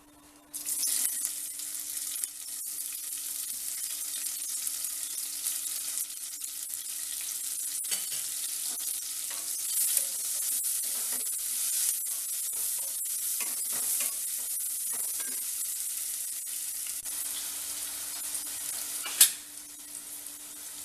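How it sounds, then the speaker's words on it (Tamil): Onions sauté in oil left from roasting prawns, a steady, even sizzle of frying that runs throughout with occasional stirring scrapes and a brief louder clatter near the end, no voices. "இப்போ இந்த எண்ணெயிலேயே நம்ம வெங்காயத்தை வதக்கிடலாம்."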